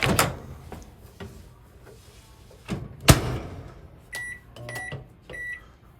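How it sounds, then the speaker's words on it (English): A microwave oven in a 2022 Forest River R-Pod RP-202 travel trailer: a low hum broken by several sharp door clunks, followed by short electronic beeps near the end. Quiet overall. "Microwave here."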